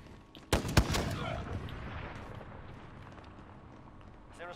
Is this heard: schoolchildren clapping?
no